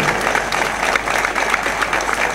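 Audience applause at a traditionalist parade, a steady dense patter of clapping from a crowd that holds at even loudness throughout, with no voices standing out.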